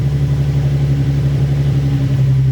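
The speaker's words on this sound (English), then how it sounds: "Give me a rev." Nissan 350Z with a swapped-in JDM engine revving steadily at close range, a loud continuous low engine drone holding throughout with no talk.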